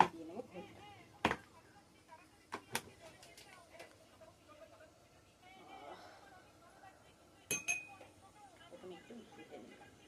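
A spoon stirs sugar into ghol buttermilk, giving scattered light clinks and taps at an uneven pace while a person talks throughout.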